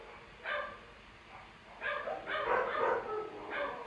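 Several dogs bark and yip in short, scattered bursts, a few barks early then a quicker cluster of yaps toward the end, moderately near and somewhat faint.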